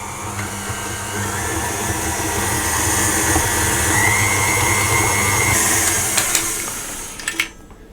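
An electric mixer creams a butter mixture for speculaas doughnut muffins, giving a steady, loud motor whir that runs unbroken before stopping with a few clunks at the end.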